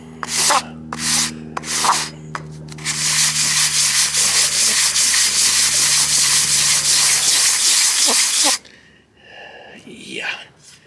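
A Jaguar S1 oil filter head is rubbed with sandpaper in a garage, with a few short scrubbing strokes followed by a long, loud continuous sanding run that stops abruptly, leaving quiet handling noises and a brief voice.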